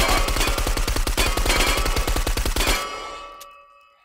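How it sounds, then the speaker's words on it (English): A machine gun in the VR shooter H3VR fires a long rapid burst of evenly spaced loud shots for under three seconds, then stops and a metallic ringing tail fades out. "Oh, now I have a machine gun."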